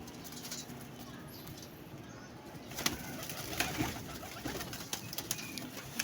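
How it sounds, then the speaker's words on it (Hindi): Soft, low pigeon cooing close by in a quiet setting, with a few scattered clicks and rustles. "कसम से क्या कबूतर है यार"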